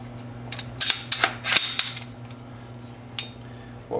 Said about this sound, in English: clear the weapon and verify that it is unloaded